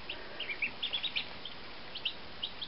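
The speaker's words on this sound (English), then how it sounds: "There are two Cherry Valley ducklings." Cherry Valley ducklings and hybrid chicks peep in quick high chirps, scattered and close over a constant hiss of background noise.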